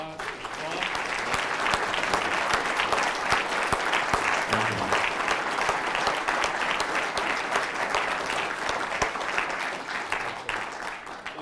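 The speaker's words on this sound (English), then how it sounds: "Folks, I hope you'll join me in a round of applause for Scott and Tom." An audience at a Cornell Lab seminar on The Warbler Guide applauds Scott and Tom, a loud, sustained burst of clapping from a full room that carries evenly from start to finish.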